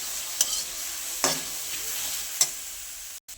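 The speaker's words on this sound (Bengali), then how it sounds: "খুন্তির সাহায্যে একটু নাড়াচাড়া করে ভেজে নেব।" Grated carrot with cashews and raisins fries in a karahi for gajar halwa, a soft steady sizzle broken by three scraping spatula strokes, with no talking.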